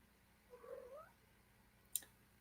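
A cat gives a single drawn-out, quiet meow in an otherwise hushed room, followed by a brief sharp tap.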